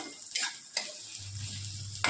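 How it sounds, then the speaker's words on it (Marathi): Onion frying in a pan until brown, a soft steady sizzle broken by a few sharp scrapes and clinks of a spatula stirring against the pan. "म्हणून कांदा ब्राऊन होईपर्यंत छानसा असा भाजून घ्यायचा"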